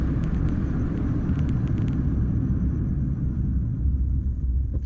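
A car engine drones under low road rumble while someone drives a long stretch on the road from Nashik to Kurduwadi, loud and steady throughout with no speech.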